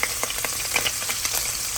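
Garlic, peppers and onions frying in a pan for homemade marinara, a close, steady sizzle with small crackling pops and a faint stirring sound, no voices.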